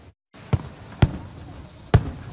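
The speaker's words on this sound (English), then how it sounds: "Fireworks can be a blast," Three sharp fireworks explosions crack out at irregular intervals, each a loud, abrupt bang over a noisy outdoor background.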